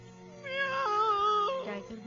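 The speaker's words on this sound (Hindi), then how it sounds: "मैं टाइगर नहीं, बिल्ली हूँ, बिल्ली। म्याऊ" A single drawn-out meow with a rising then falling, wavering pitch, performed by a voice playing a cat, clear and close, lasting about a second with no other sounds around it.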